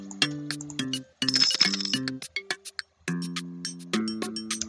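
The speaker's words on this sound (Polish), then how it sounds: "Czy chcemy dzwoneczek, czy chcemy przyspieszać?" In the Papa's Scooperia video game, a purchased bell upgrade rings repeatedly in clear, bright dings, in several clustered bursts with brief pauses between them and no talking.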